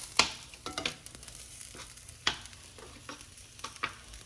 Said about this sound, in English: when I'm sauteing something like zoodles, zucchini noodles, I have a set of tongs